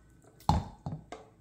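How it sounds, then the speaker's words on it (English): Gravy poured over dry dog food in bowls, heard as three short wet splashing bursts separated by brief pauses, close and moderately loud against a quiet room. "I just pour the gravy"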